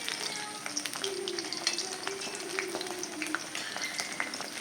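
Kerala-style tapioca fritters (kappa vada) frying in hot oil on a high flame, a continuous crackling sizzle with sharp popping spatters scattered throughout, close and steady, with a voice speaking faintly underneath.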